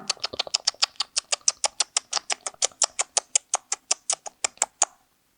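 A voice imitates a squirrel with a rapid run of about two dozen sharp, evenly spaced chattering clicks, close and bright, lasting several seconds before stopping.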